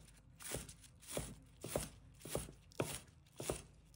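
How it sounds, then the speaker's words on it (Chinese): Knife chopping scallion greens into small rings on a cutting board, with soft, evenly spaced thuds in a steady rhythm, close and fairly quiet. "葱叶切成葱花。"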